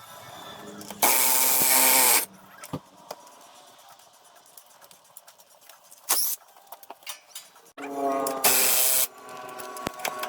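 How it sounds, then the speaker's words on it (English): A power tool on a CF Moto winch panel whirs in loud close bursts of about a second each as bolts come out, separated by quieter handling clatter and clicks. "we're going to be taking these bolts or screws out to remove this panel to get to the winch"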